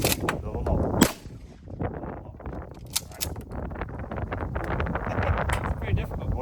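Shotgun shots at an outdoor clay range, sharp loud blasts with wind buffeting the microphone and people talking nearby between shots.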